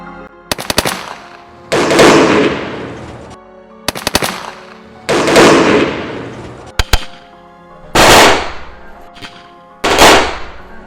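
Gunfire sound effect for a night ambush on British soldiers, with sharp clustered shots alternating with louder rolling booming blasts, loud and repeated across the stretch with no voices.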